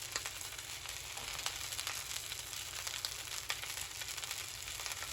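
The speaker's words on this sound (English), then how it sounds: "medium high heat pan with 1 tablespoon of olive oil, we're going to saute our broccolini" Broccolini sautéing in a tablespoon of olive oil in a pan over medium-high heat, a steady close sizzle and crackle with faint spitting pops, no voices.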